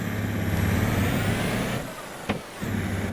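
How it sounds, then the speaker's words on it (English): A farm truck drives over to a field, its steady engine drone running close and loud with a brief sharp air-brake-like hiss near the end before the motor carries on. "I'll drive the truck over to the field."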